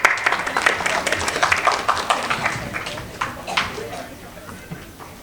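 Clapping from an audience at a village felicitation ceremony staged in a Marathi play, a steady patter of hands lasting several seconds and tapering off slightly toward the end, with voices mixed in.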